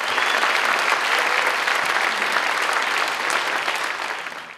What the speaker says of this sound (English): Let's give them a round of applause before I go on with the other stuff.